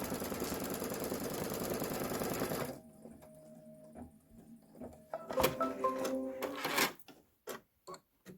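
A Kimberbell embroidery machine stitches a windmill design with a loud, steady, rapid stitching whir for nearly three seconds. It then stops, leaving scattered clicks, thumps and brief rattles.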